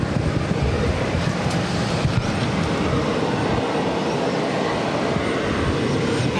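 A heavy airliner arriving at Boston Logan airport makes a loud, steady, broadband jet roar that holds unbroken throughout, with no voices.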